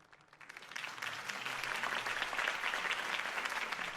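Sustained audience applause following a campaign speech for Harvey Dent, a dense wash of clapping that swells quickly and holds steady and loud.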